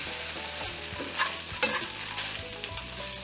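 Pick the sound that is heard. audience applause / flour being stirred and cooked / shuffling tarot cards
flour being stirred and cooked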